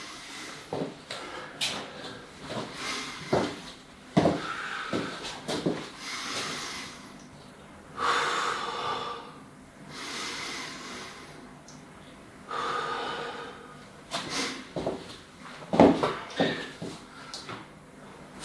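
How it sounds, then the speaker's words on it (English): Controlled breathing during a Krav Maga fundamentals lesson, in through the nose and out through the mouth, heard as repeated close, loud breaths and sharp nasal snorts in a steady rhythm. "control your breathing, in through the nose, out through the mouth"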